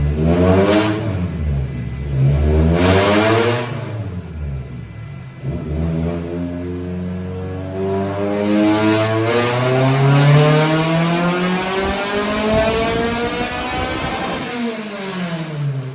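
A K24-swapped Suzuki Cultus is revved hard on a dyno during a tuning run, its engine roaring loud and close as it climbs through the revs, drops back and pulls up again in long repeated sweeps.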